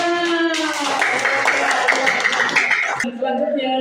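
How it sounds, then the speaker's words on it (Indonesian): Applause from a group at a school or class gathering, a burst of hand clapping under and alongside voices, with a speaking voice carrying through much of it. "Tepuk tangan."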